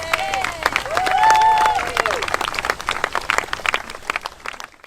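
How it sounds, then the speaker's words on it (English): A crowd at an outdoor children's rally in Newcastle claps and cheers loudly for nearly five seconds. Whoops and shouts rise over the clapping, with voices mixed in. "Please give them another round of applause"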